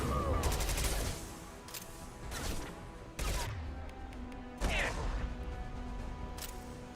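Rockets and gunfire crash through a firefight in Mass Effect 2, with several heavy blasts and bursts of shots over a dense, continuous battle din.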